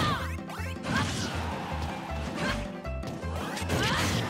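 Side smash attack landing in Super Smash Bros. Ultimate during an amiibo match between Lucina and Pac-Man: dense crashing hit effects and whooshes over loud, rhythmic fight music, with no clear talk.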